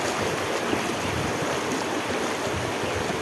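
Floodwater runs steadily through a flooded town, a continuous close rushing and gurgling wash with no clear pauses or voices.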